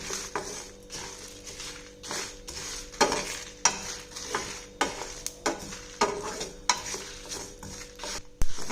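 Spices with coriander seeds are dry-roasted for a village-style fish curry, with repeated scraping stir strokes in a pan over a faint sizzle and no talking.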